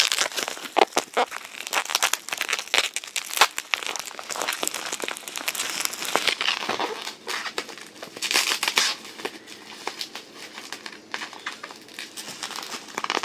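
Packing tape crackles and rips in a dense run of crinkles and short tearing bursts as a package is unboxed, close and fairly loud, with no talking.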